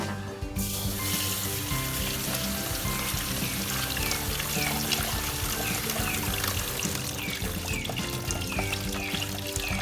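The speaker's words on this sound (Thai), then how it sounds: "กำจักนำควีนวามาล้างนะคะ แม่จะล้างใส่ตะเกียบ สักสองสามน้ำก็ได้" Quinoa rinsed in water with chopsticks stirring the grains, giving a steady, close pouring and trickling wash of water that runs continuously without any talk.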